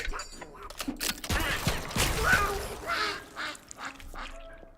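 Loud, raspy duck quacks from an angry cartoonish duck in a video game, several bursts in quick succession mixed with crashing game effects, with someone talking over parts of it.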